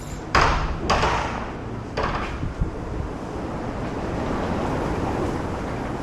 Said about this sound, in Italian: C'è un vento che ti si porta